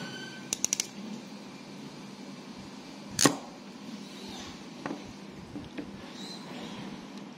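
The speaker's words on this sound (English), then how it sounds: "Ratcheting mechanism creates uniform crimps and reduce the risk of damaging the heat shrink jacket." A ratcheting crimper crimping a heat shrink ring terminal: a quick burst of small clicks, then a single sharp snapping crunch, followed by a few fainter clicks against quiet room noise.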